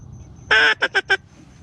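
Teal ducks flying low overhead in a Louisiana marsh during a hunt from a pirogue give a loud, close burst of raspy honking calls: one long call followed by three short, evenly spaced ones, with no talking.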